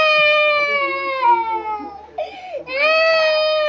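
Infant wails in long sustained cries with a brief broken sob midway, close and loud throughout, while an adult's voice speaks softly near the end.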